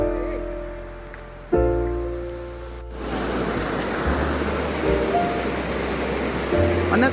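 Ludu waterfall in Kandhamal pours in a steady, broadband rush that fills the scene after a brief quieter stretch, with close water roar continuing unbroken.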